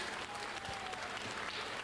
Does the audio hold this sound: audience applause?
yes